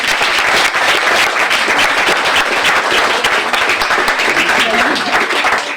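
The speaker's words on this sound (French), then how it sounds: "J'aimerais juste qu'on applaudisse ma maman qui me regarde de là-haut" Audience at a comedy club bursting into loud, sustained applause that holds steady the whole time, dense hand claps from many people close by, with some voices mixed in.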